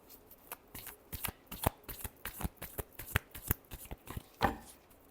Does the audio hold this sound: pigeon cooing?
no